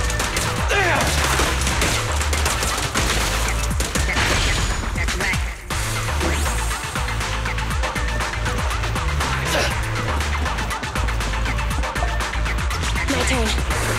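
Rapid, dense gunfire bursts from the video game Zenless Zone Zero sound loud and continuous with crashes and impacts, mixed with game music and effects.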